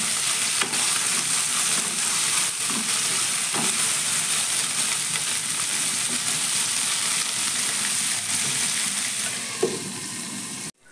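Cauliflower frying in hot oil in a pan, with a steady, loud sizzle and crackle throughout and occasional scrapes and knocks of a spoon stirring the pieces, ending abruptly.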